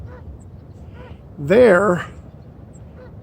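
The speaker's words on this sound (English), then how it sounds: "There's this little lake out here. You got birds on the other side" A bird at a small lake near sand dunes by the beach gives a single loud goose-like honk of about half a second, close and clear over quiet outdoor ambience, just after a brief spoken word.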